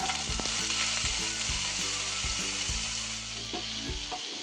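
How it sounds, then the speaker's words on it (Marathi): Chunks of bottle gourd fry in hot oil in a pan on a gas stove, a steady close sizzle broken by regular clanks and scrapes as a spatula stirs them. "छान असा दुधी भोपळा तेलामध्ये छान भाजून घ्यायचा"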